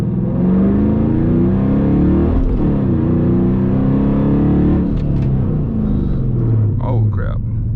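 A Dodge Challenger R/T with a six-speed manual pulls hard from second gear, its loud engine rumble climbing in pitch, briefly dipping at a shift, then rising again, with a short burst of voice near the end.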